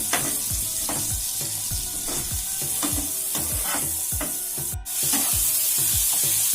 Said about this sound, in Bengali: পেঁয়াজ কাঁচা লঙ্কা টমেটোটাকে তেলের সাথে নাড়াচাড়া করে দু থেকে তিন মিনিট ভাজা ভাজা করে নিতে হবে